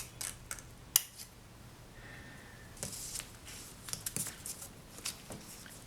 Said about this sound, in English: I know exactly where to cut this with the scissors